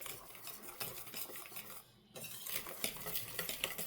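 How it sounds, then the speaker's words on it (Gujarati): A spoon stirs milk powder and milk together in a bowl for milk powder penda, making a continuous clinking, scraping swirl with a brief pause midway before the stirring resumes. "તમે સ્પૂનથી પણ હલાવી શકો, ચમચીથી."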